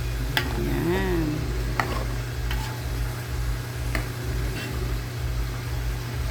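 Pork mechado being stirred in a pan, with a steady sizzle of cooking meat under repeated scraping strokes of a utensil against the pan, close and fairly loud, with no talking.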